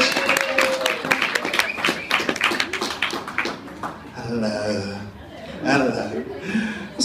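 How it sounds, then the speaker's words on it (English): A pub audience at a music competition at The Ship in Barry claps and cheers as a performer comes to the stage, a dense spatter of hand claps for several seconds before speech takes over. "Give her a round of applause as Crystal comes to the stage."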